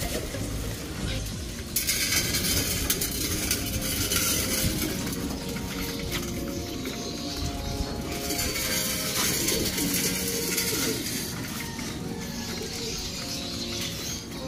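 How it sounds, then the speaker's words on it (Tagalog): Racing pigeons feeding in a loft, with soft repeated cooing and pecking, shuffling and grain noises throughout, close by and steady with a faint voice at times. "malalakas naman po kumain yung mga ibon natin"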